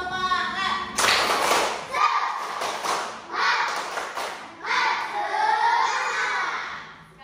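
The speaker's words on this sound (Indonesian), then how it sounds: "Nah, tepuk semangat." Children in a classroom fraction lesson do a tepuk semangat spirit clap: several loud bursts of rhythmic group clapping, separated by short pauses, mixed with young voices chanting.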